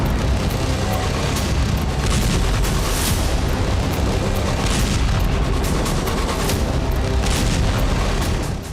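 Blasts from drone and cruise missile strikes on Krasnodar, heard as a dense, continuous roar of booms and rumbling with no clear pauses and no talking.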